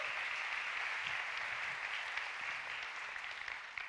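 A church congregation applauds continuously, a dense, even wash of many hands clapping at moderate distance with no voices standing out.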